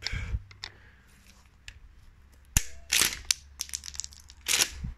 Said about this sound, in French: Je tire, ça s'éjecte. Donc ça s'éjecte plutôt loin.